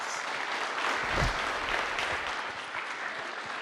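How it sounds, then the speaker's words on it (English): A warm round of applause from an audience at a morning 1 Million Cups Kansas City event, steady and fairly distant, lasting several seconds with no talk. "Let's give them a warm round of applause."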